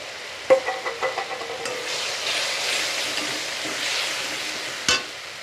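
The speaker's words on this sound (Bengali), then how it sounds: "জিরে বাটা আদা বাটা লঙ্কা বাটা রসুন বাটা দিয়ে ভালো করে একটু নাড়াচাড়া করে নেব" Spoonfuls of ground cumin, ginger, chili and garlic pastes stirred and frying in a pan, a few sharp scraping strokes at first, then a steady close sizzle with one more clank near the end.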